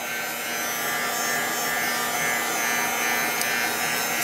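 A heat tool blows a steady, loud whirring hiss while drying paper flowers coated with glimmer paint, holding an even drone throughout with no talking.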